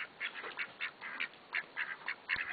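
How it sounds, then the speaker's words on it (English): Khaki Campbell ducks quack repeatedly in a farmyard in quick, uneven bursts, fairly faint and a little distant, with no talking. "and khaki Campbell ducks."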